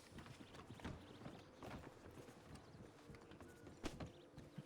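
A horse pulling a wagon in a Wild West role-play video game clops past at a steady walk, hooves and rattling wheels at moderate distance, with soft background noise and no voices.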